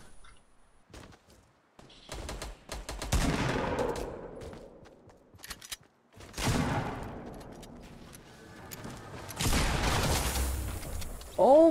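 Video game shotgun fire comes in three heavy blasts spaced a few seconds apart, each booming loudly and trailing off in a long decaying roar, with faint clicks and mechanical rattles between shots.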